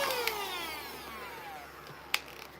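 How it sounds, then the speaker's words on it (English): A small electric handheld vacuum-blower, used in place of canned air, runs with a faint high motor whine that slides steadily downward in pitch, with a couple of light clicks, close and quiet with no talk. "And it's like a little vacuum this way."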